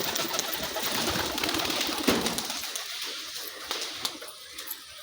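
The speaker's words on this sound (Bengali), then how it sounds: "এই দেখুন ইনার পায়রা" Domestic pigeons cooing in a loft, soft repeated coos over a steady noisy background, with a brief louder burst partway through and quieter calls toward the end.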